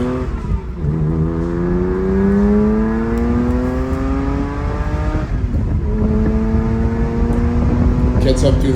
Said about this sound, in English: Gets up through the gears, makes a lot of power.